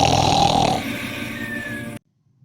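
Human snoring, one loud rasping, rumbling breath lasting under two seconds that fades slightly before cutting off into silence.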